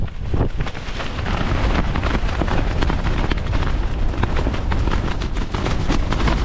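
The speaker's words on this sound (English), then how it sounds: "The wind doesn't really seem to be letting up at all." Strong mountain wind buffeting and flapping a tent on Mount Pugh, a loud continuous roar with rapid fabric rattling and gusts close to the microphone.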